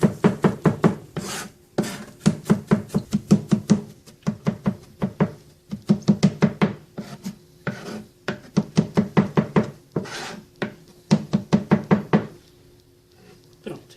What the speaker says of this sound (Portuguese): usando o próprio formato da faca, eu vou picando esse alho para ele ficar bem pequenininho